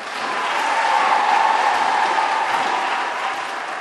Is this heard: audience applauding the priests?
yes